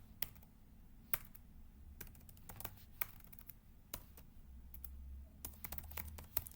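Soft keyboard typing at a Linux desktop, with scattered individual keystrokes and short bursts of clicks, faint and close, over a quiet room hum.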